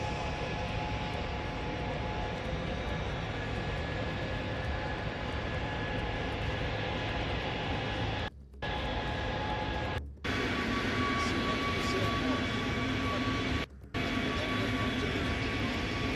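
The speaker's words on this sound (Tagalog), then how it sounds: "So ito yung pagdating ng eroplano ni Putin." A plane carrying Putin arrives at an airport, its engines producing a long, steady roar that holds throughout, cut by a few brief gaps.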